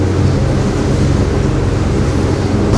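Strong wind on the Waal river buffeting the microphone with a low, continuous roar and churning water underneath, loud and steady with no voices.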